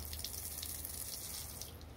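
Water runs steadily out of an opened outdoor sink tap at a private house as the line drains, a soft continuous trickle and splash heard close with no voices.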